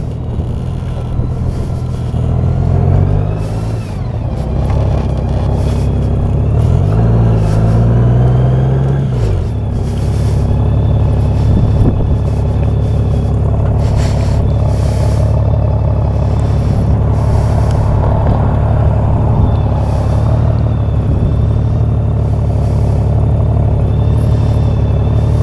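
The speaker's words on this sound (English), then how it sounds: "Lots of cars." Several cars roll past on a road, a deep engine rumble swelling and fading in overlapping passes that run continuously for about twenty-five seconds.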